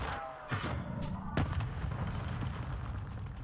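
Grenade explosion in the video game Warzone 2, a sharp blast with rumbling aftermath amid several gunfire cracks and bursts, followed by a sustained low roar of combat noise.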